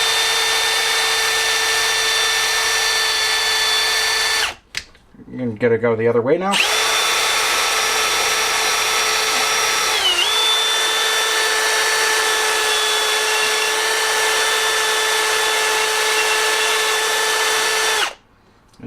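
A power drill lapping engine valves on a 2000 Ford Ranger whines steadily at high speed for long stretches, briefly stopping and spinning down, with someone speaking during one pause.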